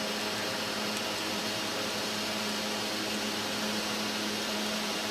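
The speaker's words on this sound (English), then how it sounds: "And we continue to weld and add rod." A TIG welding torch arc burns steadily as filler rod is fed into the puddle, a constant faint electrical hiss and buzz with a low hum underneath and no talking.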